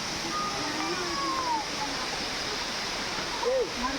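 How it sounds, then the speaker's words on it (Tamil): Waterfall at Narasimukku viewpoint near Agali in Kerala, a steady broadband rush of falling water heard from a distance, with faint bird chirps and a voice talking over it. "என்னடா சவுண்டு மட்டும் தான் வருது. வாட்டர் ஃபால் வந்துட்டோம்."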